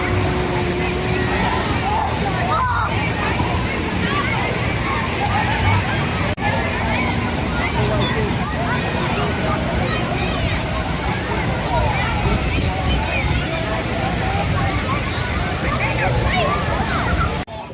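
Wave pool at a water park, with steady sloshing and splashing water beneath a dense babble of crowd voices, loud and continuous throughout.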